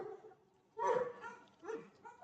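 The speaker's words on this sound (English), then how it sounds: "you can just quiet this dog" A dog indoors lets out two close barks with a slight whining edge, spaced apart, with quieter moments in between.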